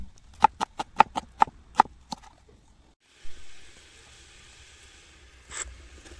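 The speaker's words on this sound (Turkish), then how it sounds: "Soğanı nazik nazik doğrayıram." A knife chops an onion thinly on a board, about eight quick crisp strikes in a row, then a brief pause and softer rustling.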